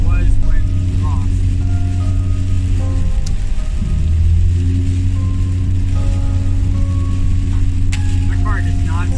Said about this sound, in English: My car does not sound happy at all